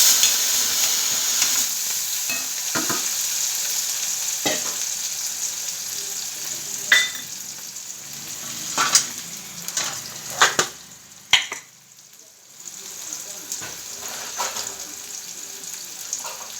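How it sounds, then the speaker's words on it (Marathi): Chopped onion and potatoes sizzle steadily in a pan with chili powder and salt going in, a constant close hiss broken by a few louder clanks and stirring scrapes. "कांदा भाजलाय, बटाटे टाकून त्याच्यामध्ये तिखट, मीठ,"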